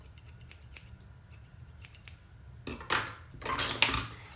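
Scissors point cutting hair at home with a brush give a quick series of soft snips, faint and close, building into a denser cluster of crisp cuts near the end, no talking.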